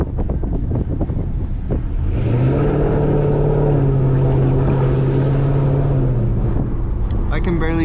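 A Dodge Scat Pack's engine drones steadily under load as the car climbs a mountain road, a sustained engine note with wind noise around it.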